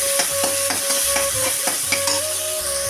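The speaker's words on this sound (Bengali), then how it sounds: "পেঁয়াজটা আমি দিয়ে দিলাম এবার পেঁয়াজটাকে আমি একটু নাড়াচাড়া করবো" Chopped onion fries in a pan for a Bengali katki fish chorchori, with a spatula scraping and stirring in a steady rhythm over a continuous close sizzle. No one speaks.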